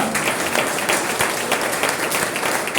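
A church congregation claps together in sustained, even applause that fills the room at a steady level.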